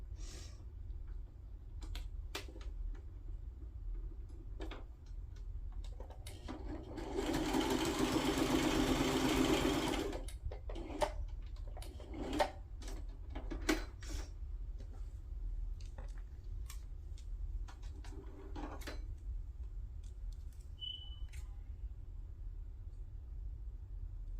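A sewing machine stitches junk journal page tabs together at the top in one short burst of motor whir lasting a few seconds, surrounded by a low background hum and scattered light clicks and handling noises.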